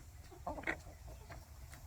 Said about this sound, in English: the breeds I have, this is a Leghorn, then I've got some tan ones, those are Buff Orpingtons